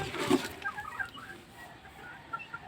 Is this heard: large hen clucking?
yes